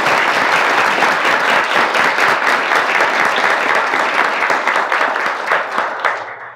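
Audience applause welcoming FBI Director James Comey to a lecture series: a full room clapping steadily and loudly for several seconds, tapering slightly at the end.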